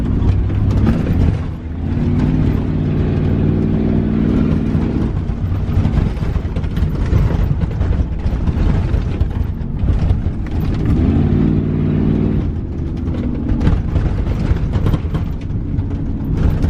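Prerunner off-road truck driving at Lake Matthews, heard from inside as a loud continuous engine drone with rattling mechanical clatter and two long rising rev swells, no talk.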